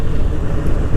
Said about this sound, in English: the engine's doing just fine. It's smooth.